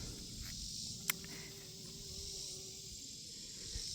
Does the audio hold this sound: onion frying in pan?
no